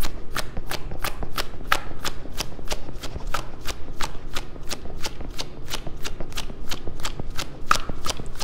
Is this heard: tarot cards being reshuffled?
yes